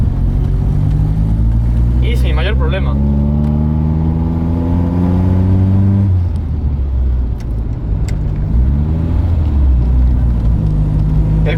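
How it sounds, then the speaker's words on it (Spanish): Loud engine note rising in pitch as an 85-year-old, 40-horsepower Simca 8 accelerates in second gear, rumbling up close, with someone speaking briefly over it. "metemos segunda, soltamos el embrague,"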